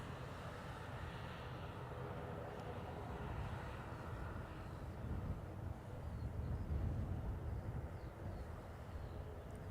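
A Ryanair airliner arriving from Newcastle at Dublin Airport in crosswind conditions, heard as a steady, broad jet-engine roar that swells slightly toward the end, with wind buffeting the microphone and no voices.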